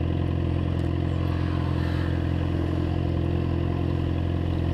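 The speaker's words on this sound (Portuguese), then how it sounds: "Ama essa moto barulhenta" Loud motorcycle being ridden on a road toward a college, a steady close engine drone with constant rumble and wind noise, no talking.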